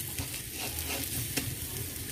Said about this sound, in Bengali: এক পাশ ভালো করে সেটাকে ভালো করে তাপ দিয়ে আমরা ভেজে নিচ্ছি